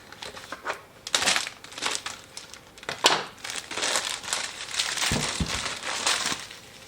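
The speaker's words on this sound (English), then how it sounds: "I think I'm actually going to need the scissors to cut this plastic off this" Crinkly plastic wrapping being handled and snipped with scissors as it is cut off a bamboo cutting board, with bursts of crackling and rustling close up and no one speaking.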